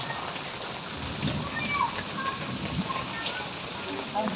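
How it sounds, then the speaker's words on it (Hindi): Heavy rain pours down steadily over a home under construction, a dense continuous hiss and patter with scattered splashes, holding at an even level throughout. "देखो दोस्तों कितनी अच्छी बारिश आ रही है।"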